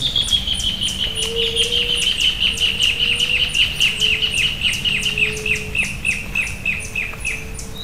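Birds sing in lush green Caatinga scrub after rain, with repeated high chirps and a sustained whistling song over steady insect-like background hum, clear and fairly close.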